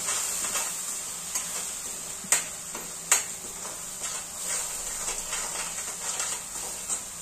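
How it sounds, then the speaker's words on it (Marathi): Spices frying in oil for a brinjal (vangi) bhaji, giving a steady hissing sizzle with intermittent stirring scrapes and a couple of sharp clinks of a spoon against the pan, close up. "याला पण तेल सुटेपर्यंत फ्राय करून घेऊया।"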